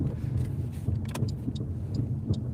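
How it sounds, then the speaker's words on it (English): A car's engine in a short stretch of road driving, a steady low rumble with faint higher clicks on top and no voices. "Wide open throttle."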